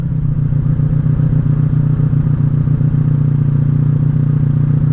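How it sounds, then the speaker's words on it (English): A 1984 Honda Sabre VF1100S motorcycle runs on the road, its engine a loud, steady low drone with a throbbing rumble and constant wind and road noise, close and unbroken throughout. "She's a good sounding old bike."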